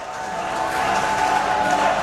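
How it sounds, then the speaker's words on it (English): Crowd at a UK Pro Wrestling match in Canterbury, a steady roar of cheering and noise from a packed hall that swells slightly and holds throughout. "Oh, listen to the crowd in Canterbury."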